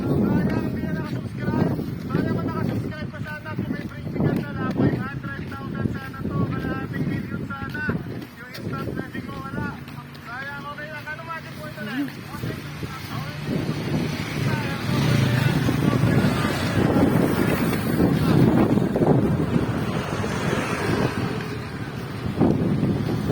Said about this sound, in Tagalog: Ang hangin, ang ganda.